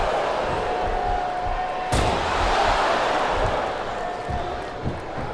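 Wrestling arena crowd in WWE SmackDown vs. RAW 2007 booing, a dense steady roar of voices with a sharp slam-like hit near two seconds, commentary voices running underneath.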